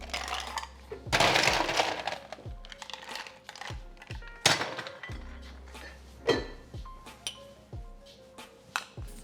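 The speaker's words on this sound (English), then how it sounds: "Now, I'm just going to top this with a little bit of ice" Ice cubes dropped into a cocktail glass behind a bar, a series of sharp clinks and clatters, several bursts spaced irregularly, close and crisp with no talk.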